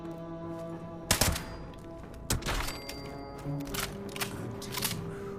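Video game combat rifle, a bloodied faster-fire-rate build, firing scattered sharp shots and short bursts at moderate loudness over a steady humming background, with pauses between volleys.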